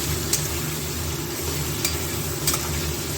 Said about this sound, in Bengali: এবার এর মধ্যে দিয়ে দেবো আলু আর ক্যাপসিকাম। এবার এগুলো একটু ভাজা হোক।